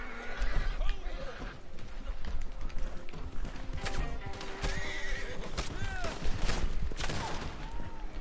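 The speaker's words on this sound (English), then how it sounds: "Now my horse is getting shot." A horse in the Red Dead Online video game whinnies several times amid hoof clip-clops and a dense barrage of gunfire, with busy, loud game noise throughout.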